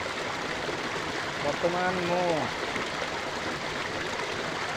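A forest waterfall and stream pour in a steady broad rush, with a voice speaking briefly over the flowing water midway.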